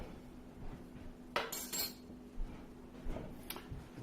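Utensil stirring turkey tetrazzini ingredients in a pot, with a few light clinks and scrapes of metal against cookware, fairly quiet and close, no talking.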